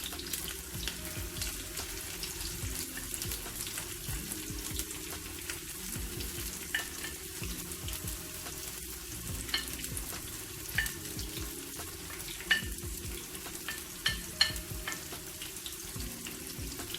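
Finely chopped onion sizzles steadily in oil in a frying pan over a medium-low gas flame, a constant close crackle with occasional clinks of a utensil stirring.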